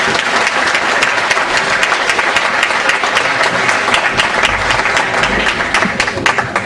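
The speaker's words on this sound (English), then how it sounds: "I'd first like to ask you to give them a round of applause for being here" A live event audience in London gives the event staff a loud, continuous round of applause, dense clapping that holds steady throughout without letting up.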